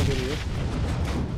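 A bomb explodes in a video game, producing a dense, loud burst of rumbling blast noise that fills the whole short moment with no pause.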